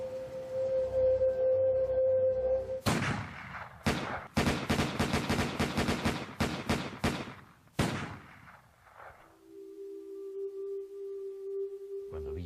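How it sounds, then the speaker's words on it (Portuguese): Sustained volley of high-calibre rifle fire from an ambush on a car in 1923 Mexico, loud rapid overlapping shots in dense bursts for several seconds, then trailing off into a low hum. "desferiram 150 tiros no carro em que viajava"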